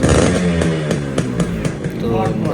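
A Yamaha RX100 two-stroke motorcycle engine, being restored after a jammed silencer, runs loudly up close with a buzzing, rattling putter and small revs, while someone speaks over it.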